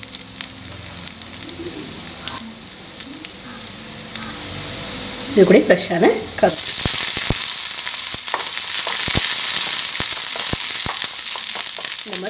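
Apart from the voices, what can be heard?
tempering spices sizzling in hot oil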